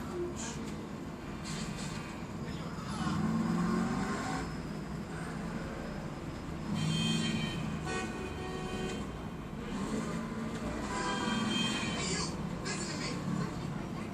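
A car drifts in GTA 4: engine drone and tire noise rise and fall in several long surges under steady background game sound, with a few higher whines and squeals, while a voice talks over it.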